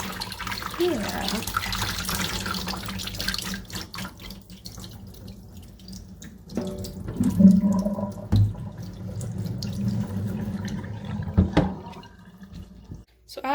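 Cold water spraying onto hot, steaming cheese curds in a sink, a close hissing water stream that starts and stops with dripping and splashing, while a person talks over it.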